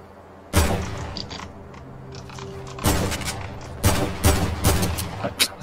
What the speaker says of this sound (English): AK is so inaccurate